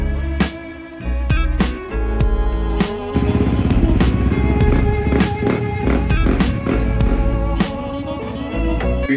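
A motocross motorcycle engine runs nearby, a buzzing, revving drone that keeps going across the clip and mixes with background music.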